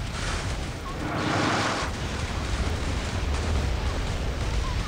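Naval gunfire and shell explosions from enemy warships in the Modern Warships game, a dense, loud rumbling barrage with a brighter burst in the middle, continuous across the whole stretch.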